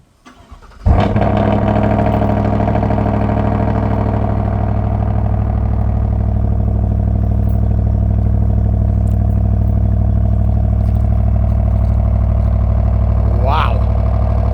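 2026 Chevy 1500 RST with a 5.3 V8 and muffler delete fires up on a cold start with a sudden loud burst, then settles into a loud, steady, deep rumbling idle for over ten seconds.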